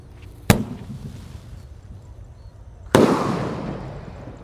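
Two sharp firecracker bangs go off about two and a half seconds apart, each followed by a crackling, hissing tail outdoors.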